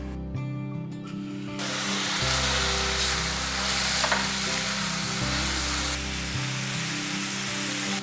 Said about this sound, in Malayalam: ഈ ഉള്ളി നന്നായി വഴന്ന് വരുന്ന വരെ ഒന്ന് ഫ്രൈ ചെയ്തെടുക്കണം